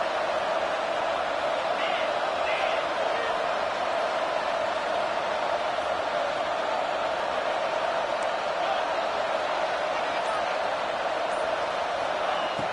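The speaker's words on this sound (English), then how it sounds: "the crowd coming to life here, trying to help this defense down in the red zone" Video game football crowd cheering steadily, a dense, continuous roar that holds at the same level throughout as the defense plays in the red zone, with a commentator talking over it.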